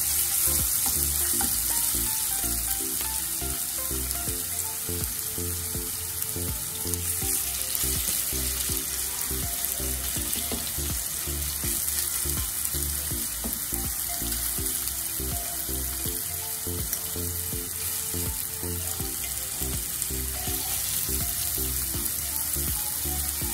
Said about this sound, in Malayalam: വെളിച്ചെണ്ണ നല്ലോണം ചൂടായി വന്നിട്ടുണ്ട്. അതിലോട്ട് നമുക്ക് മസാല പൊട്ടിയ ചെമ്മീന് ഇട്ട് കൊടുക്കാം